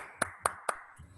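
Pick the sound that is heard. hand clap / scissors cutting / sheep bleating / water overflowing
hand clap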